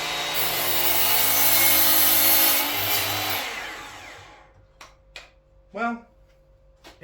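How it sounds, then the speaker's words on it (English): A DeWalt 18V DCS365N cordless mitre saw cuts through a piece of timber. A loud whirring cut lasts about four seconds and then winds down, followed by a few sharp clicks and knocks in the quiet that follows. "So let's cut a piece of timber and see what it's like."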